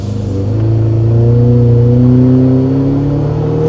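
Toyota Tacoma engine with a COBB Accessport tune pulling hard in sport mode, a loud, close, steady drone that rises smoothly in pitch as the revs climb, then eases near the end.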